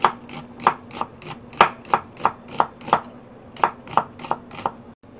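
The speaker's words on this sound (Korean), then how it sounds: "양파는 반개만 채 썰어 줄게요" A knife slices half an onion into thin strips on a cutting board, about fifteen crisp, evenly spaced chops in a steady rhythm, close and clear with no talking.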